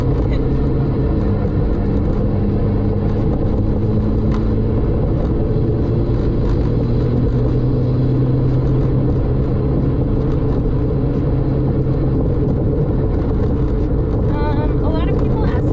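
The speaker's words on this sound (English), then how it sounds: "These roads are trash, so you'll definitely get the road noise." Road noise fills the cabin of a 350whp MK5 GTI on rough canyon roads: a steady low tire-and-engine rumble that never lets up. A person talks over it throughout.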